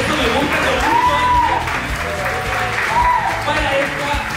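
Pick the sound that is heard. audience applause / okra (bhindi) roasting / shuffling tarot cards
audience applause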